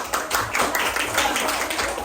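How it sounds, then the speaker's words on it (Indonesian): Students in an elementary classroom clap together for everyone, a dense patter of small hands continuing throughout at moderate volume, with a few faint voices under it. "Tepuk tangan untuk semua."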